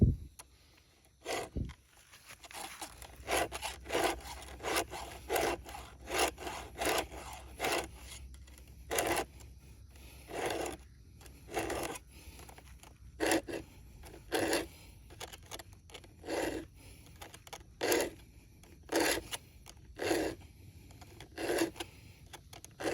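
A hand file is drawn across the teeth of a chainsaw chain in steady, evenly spaced rasping strokes, about twenty in all, close and clear in a quiet setting.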